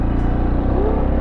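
A Fuego Tekken 250cc motorcycle is ridden in first gear through deep sand. The single-cylinder engine gives a close, loud, steady low thrum with rapid regular pulses and no speech.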